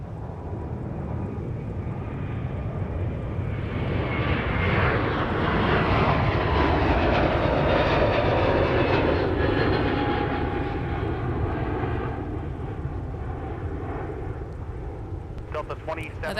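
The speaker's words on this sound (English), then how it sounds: "Aer Lingus is now departing back to Dublin with the A321 XLR" An Aer Lingus Airbus A321 XLR jet departs, its engines building into a loud, broad roar that swells and then slowly fades, with talk over it.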